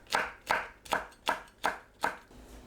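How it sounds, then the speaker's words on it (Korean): Six crisp knife chops slicing chili peppers into rounds on a cutting board, evenly spaced about half a second apart, close and clear with no talking. "청양고추를 둥글게 썰어줍니다."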